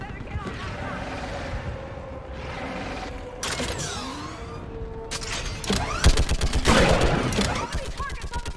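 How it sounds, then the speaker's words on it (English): A mounted gun firing in the Mass Effect 3 video game, with heavy rattling bursts building toward the end amid creaking metallic mechanisms and game noise, with voices talking in places. "Get on that gun up there and do some damage!"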